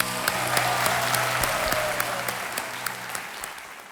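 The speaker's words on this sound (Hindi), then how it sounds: "तालियां बज जाए जसविंदर सिंह जी के लिए" Steady studio audience applause on the set of the quiz show Kaun Banega Crorepati, a dense, even patter of many hands clapping close by, with sharper individual claps standing out now and then.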